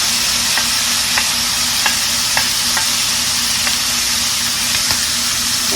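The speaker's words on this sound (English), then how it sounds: "We're going to put all these veggies, these beautiful veggies and the juice back in here" Onions, mushrooms and their juices going back into a hot pan, a loud close continuous sizzle with faint regular scraping ticks of stirring, no talk.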